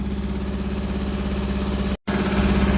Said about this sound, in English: she's running like a damn tractor, but she's running.